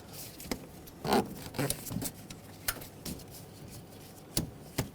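Two hoses snapping into place on the valve cover of a 2007-2014 Chevrolet Silverado 2500HD with a 6.0L V8, heard as several short, sharp plastic clicks and scrapes spread across a few seconds, close and fairly quiet.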